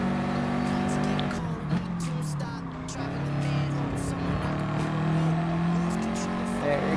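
A race car engine revs steadily in the video game Gran Turismo Sport, with a Subaru Gr.4 car droning loud and continuous as the pitch rises and falls through gear changes. Faint tire noise sits beneath it.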